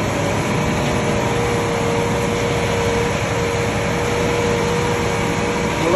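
Concrete being poured by machine at a construction site for a gas station, a steady loud engine drone running continuously without a break and no voices.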